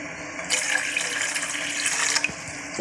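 Water pours steadily into a pot for making homemade kashaya, a close, splashing stream that starts abruptly and runs for about two seconds before stopping, with no talking.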